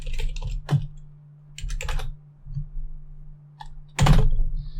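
Keystrokes on a computer keyboard entering a terminal command, a few scattered bursts of clicks with pauses between them, close and fairly quiet, no talking.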